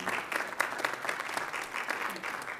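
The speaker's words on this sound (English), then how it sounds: "I think we need to give them a round of applause" A round of applause from attendees at an annual meeting, quiet and steady clapping from a small gathering that carries on evenly for a few seconds.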